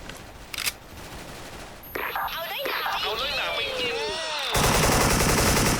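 Video game gunfire from an AK-74 in WAR cracks in sharp shots and then a loud sustained burst near the end, while someone talks excitedly over the action.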